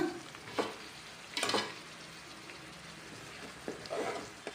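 Fish pieces are turned in a pan of simmering fish curry, with soft scraping and stirring clatters every second or so over a quiet, low sizzle, close by and without talk.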